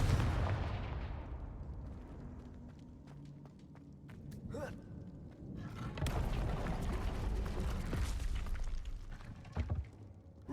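A Confringo blast spell goes off in the video game Hogwarts Legacy as a sharp, booming explosion that rolls into a long rumbling crackle. Scattered clicks and thuds of gameplay sound around it.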